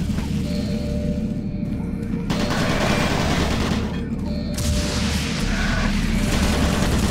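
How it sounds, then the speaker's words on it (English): Automated turret guns in Doom 3 fire in long loud bursts with heavy booming low end, pausing briefly between volleys before opening up again. "Warning, automated turret guns online."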